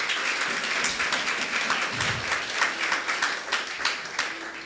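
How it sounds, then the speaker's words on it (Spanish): A church congregation applauds steadily, with dense overlapping claps and a few sharper ones standing out, filling several seconds at moderate loudness. "Dale otro fuerte aplauso."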